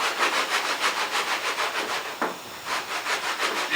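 A cheese grater rasps across car body filler during collision repair, giving steady rhythmic scraping strokes, close and fairly loud, with a brief pause partway through and no talking.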